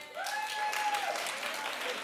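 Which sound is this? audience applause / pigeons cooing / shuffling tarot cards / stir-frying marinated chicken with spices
audience applause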